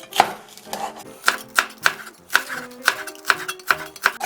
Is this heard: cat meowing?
no